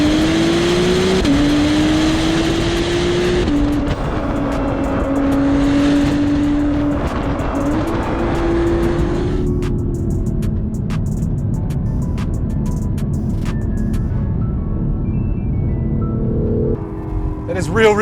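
A 2021 Acura NSX's 3.5-liter twin-turbo V6 hybrid powertrain revs hard on a track in manual mode, rising through gears loudly up close before easing off to a quieter cruise.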